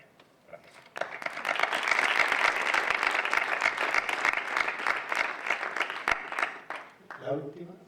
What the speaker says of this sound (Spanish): me gustaría pedir un aplauso para ese centro ya extinto